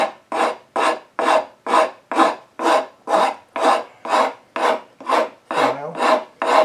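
A coved side of a file is drawn across a shaped wooden leg in about thirteen even, rhythmic rasping strokes, close and clear with no talking.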